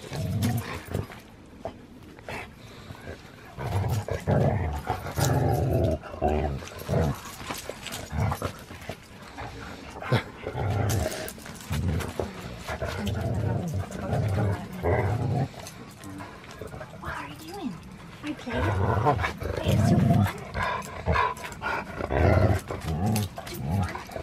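Several dogs growl and grumble in continuous low rumbling bursts at a tree frog at a camping site in Michigan, close and fairly loud throughout.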